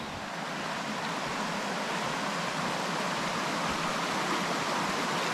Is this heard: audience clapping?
no